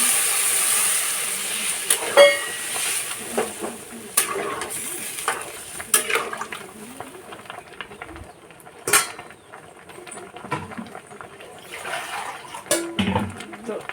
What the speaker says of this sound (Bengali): ভেজে ভালো করে নাড়াচাড়া দিয়ে নিচ্ছি আবার নুন দেওয়ার পর তারপর দিয়ে নিচ্ছি জল